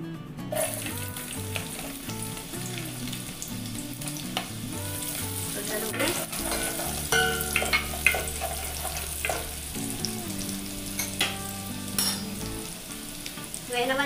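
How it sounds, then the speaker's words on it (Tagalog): Garlic frying in heated cooking oil for a cheap Italian-style pasta: a continuous close sizzle with intermittent stirring scrapes and light utensil taps, heard alone without speech. "At pag uminit ang mantika, ilagay na natin ang bawang."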